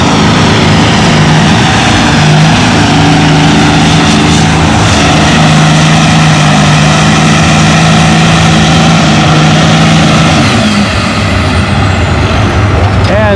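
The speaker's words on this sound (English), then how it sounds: "next tractor on the big sled is a turbocharged B17" A turbocharged B17 tractor in a tractor pulling competition on the big sled, its engine roaring loud and close with a steady droning note that holds throughout, then shifting near the end.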